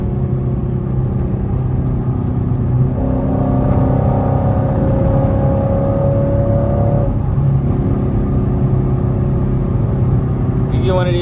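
A Chrysler 300 SRT 392 accelerates in manual mode using paddle shifters, its engine rumbling steadily throughout and rising in pitch through a gear, with someone talking over it.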